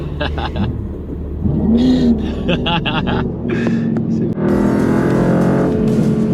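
Mercedes-AMG GT R on the Grand Prix de France circuit, engine note rising and shifting up through gears, loud and close from the cabin, with people talking over it.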